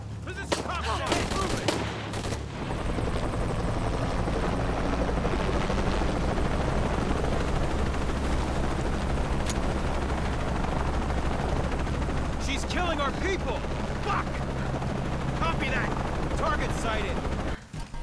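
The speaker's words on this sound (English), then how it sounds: "Hated helicopters." Helicopter rotor drone with bursts of gunfire and machine-gun fire from the video game Shadow of the Tomb Raider, a loud continuous mix with shots scattered throughout and some voices beneath.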